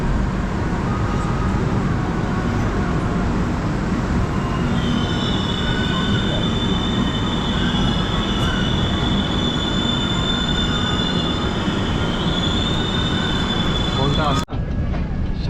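A Kanniyakumari–Howrah Superfast Express train runs steadily through a station near Kharagpur, with loud continuous rumble and rattling, and high wheel squeal rising midway and holding until an abrupt drop near the end.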